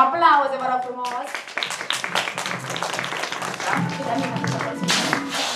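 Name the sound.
audience applause for a storyteller receiving a diploma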